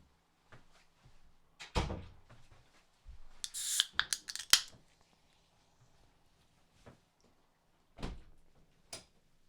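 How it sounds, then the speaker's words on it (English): A couple of indoor doors being shut, with several soft knocks, one louder clunk and rattle, and scattered quiet handling thumps spread across a quiet room. "I need to close that door and that door."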